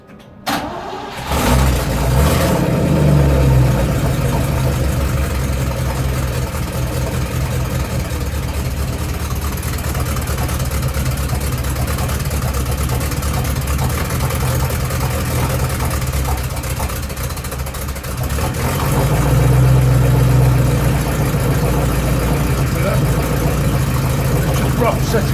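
A 1972 Range Rover engine with ignition timing being adjusted cranks and catches, then idles loud and close for over twenty seconds, roughly at first, rising briefly in pitch near the end, with a voice talking over it.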